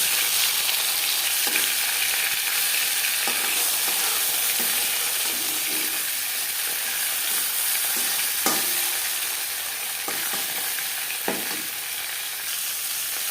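Pieces of rohu fish fry in refined oil in a pan, giving a steady loud sizzle with occasional sharp crackles and soft scrapes as they are turned, with no talking.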